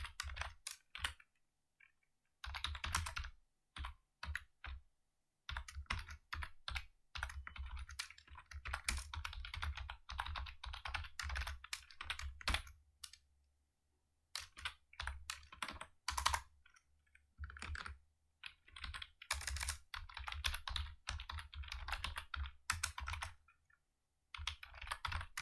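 Code being typed on a computer keyboard: rapid clacking keystrokes, close and clear, in bursts of several seconds separated by brief silent pauses.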